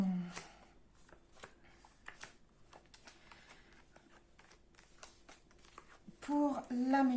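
Oracle cards are turned over and shuffled at close range in quick, light papery flicks and slaps, ending in a louder burst of handling as a voice begins to speak.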